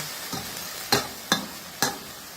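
Lotus seeds stirred into a hot pan in a home kitchen, giving three or four sharp scraping strokes spaced about half a second apart over a quiet background hiss.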